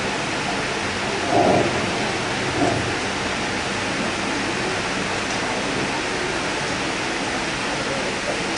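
Rain on a wet morning with thunder: a steady, even hiss of rainfall throughout, with a low rumble of thunder swelling briefly twice early on.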